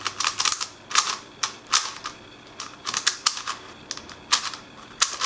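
A Cong's Design MeiYu 4x4 speed cube being turned quickly for corner cutting, giving dense bursts of sharp plastic clicking and clacking in uneven clusters, close and fairly loud, with no talking.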